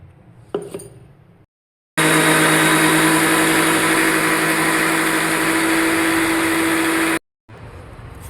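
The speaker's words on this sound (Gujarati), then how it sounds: "હવે આપણે મિક્સરમાં પીસી કાઢીશું" A mixer grinder grinding rock sugar whirs loudly and steadily for about five seconds with a rough, gritty roar, bracketed by quiet handling clinks before and after.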